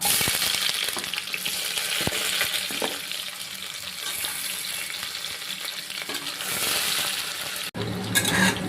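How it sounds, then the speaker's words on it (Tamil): Onions frying in oil and ghee in a pan for chicken biryani, a steady dense sizzle and crackle running close and loud throughout, with occasional stirring scrapes and a brief clatter near the end. "நல்ல வெங்காயம் நல்லா வதங்கணும்."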